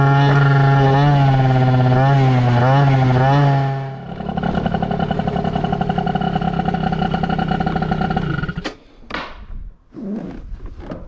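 A Yamaha Aerox scooter engine winds up to a high, wavering whine, drops to a rougher, buzzing full-throttle drone, then cuts back to uneven bursts and a lower idle, loud and close.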